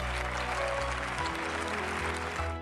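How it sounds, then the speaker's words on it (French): An audience in a children's cartoon about a little ballerina gives a standing ovation after her dance, dense sustained clapping under a low musical backing. "le public applaudit debout"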